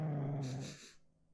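A dog in the Shadow of Destiny video game growls low and steadily for about a second, then trails off into quiet breathing.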